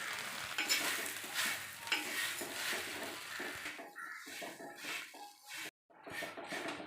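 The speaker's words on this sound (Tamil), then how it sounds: "நல்லா கருவேப்பிலை போட்டுங்க. நல்லா மொறுமொறுன்னு வறுத்துக்கலாங்க." Curry leaves frying in hot oil with salt and cumin in a pan, a close crackling sizzle with spoon stirring and scraping, continuous then briefly cut off near the end.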